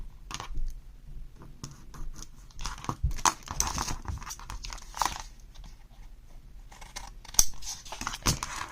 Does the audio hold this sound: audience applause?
no